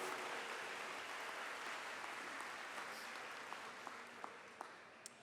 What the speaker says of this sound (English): let's give ourselves a big round of applause for being survivors for the past year and a half.